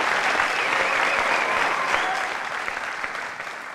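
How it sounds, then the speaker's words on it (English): Steady, dense applause from a studio audience at a televised school quiz competition, loud and sustained throughout before easing slightly toward the end. "Can we give them a big round of applause?"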